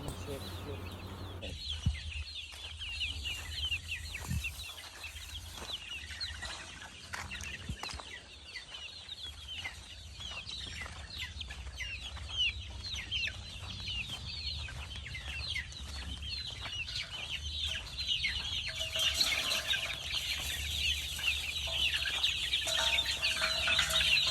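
Majic Jade gamefowl chickens cluck and chatter steadily while scrambling for fruit in a range pen, with a busy layered flock sound throughout and a voice talking over it at times.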